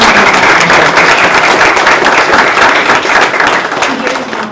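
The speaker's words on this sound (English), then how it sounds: "give her another round of applause" An audience at an award ceremony for a racial justice essay and creative arts contest applauds loudly. The dense, sustained clapping fills the whole stretch and eases off slightly toward the end.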